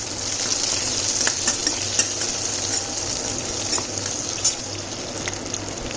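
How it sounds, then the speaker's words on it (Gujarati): Onion and capsicum frying and being stirred in a pan for chilli paneer, a steady close sizzle with scattered scraping clicks of a spoon against the pan throughout. "થોડું એવું પિંકિશ કલર આવે એટલે એમાં આપણે ઓનિયન એડ કરી દઈશું।"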